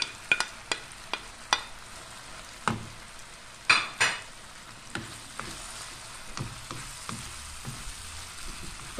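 Roasted, diced eggplant being stirred into cooking fava beans in a pan, with repeated sharp scrapes and knocks of the spoon over a low sizzle, nearby and without speech.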